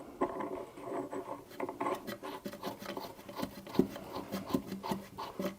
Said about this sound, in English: I'll just dress them off with a file.